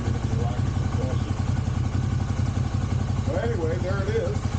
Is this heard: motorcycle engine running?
yes